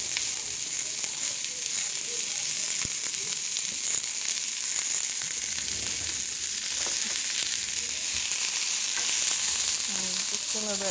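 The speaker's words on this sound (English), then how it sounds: "I'm just gonna let them saute for a minute." Vegetables sauteing in a hot pan on a home stove during meal prep, a steady close sizzle and crackle that runs throughout without any talking.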